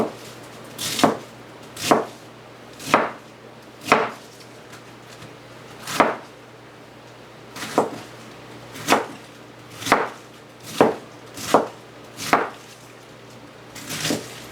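Knife chopping through half a cabbage on a board, about a dozen crisp, close thuds spaced roughly a second apart with quiet gaps between, no talking.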